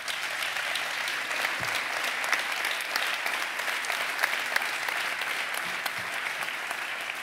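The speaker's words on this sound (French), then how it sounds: "Donc, nous allons vous applaudir." Sustained applause from an audience after a round table discussion at a network meeting, steady dense clapping throughout at a strong, even level with no talk.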